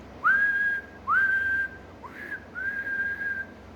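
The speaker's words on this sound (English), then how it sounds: "whistled Thomas" Three clear steady whistle blasts, each rising briefly then holding one pitch, with short pauses between, followed by a softer, wavering final toot.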